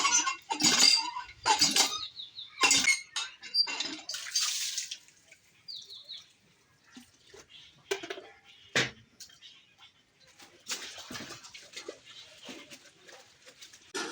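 Clothes that were left soaking are washed by hand, with splashing water, wet slaps and scattered clinks in an uneven rhythm, louder at first and then quieter, with no talk.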